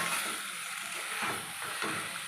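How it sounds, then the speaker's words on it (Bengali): Boiled potatoes are stirred in a hot frying pan, giving a soft, continuous sizzle with brief scraping stirs, close and low in volume. "আলুগুলো সব ঢেলে নিয়েছি, এবার একটু নাড়াচাড়া করে জল দিয়ে দেবো।"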